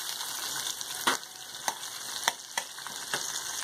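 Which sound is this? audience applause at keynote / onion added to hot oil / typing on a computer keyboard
onion added to hot oil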